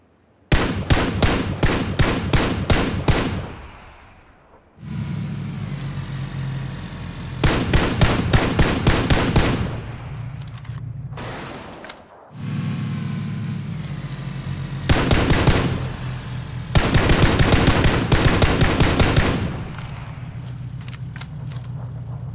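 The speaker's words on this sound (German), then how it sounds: "ob es überhaupt Sinn macht, aus einem fahrenden Fahrzeug zu schießen" Automatic gunfire is fired from a moving vehicle in the video game PlayerUnknown's Battlegrounds: loud rapid bursts repeat several times, separated by a steady engine hum.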